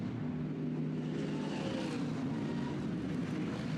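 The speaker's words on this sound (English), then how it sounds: "now add to that Lucas Auer's Mercedes AMG that comes in" A Mercedes AMG GT race car rolls into the pit lane at Brands Hatch during a GT Europe pre-qualifying session, a steady engine drone with broadband crowd and track noise and no clear individual events.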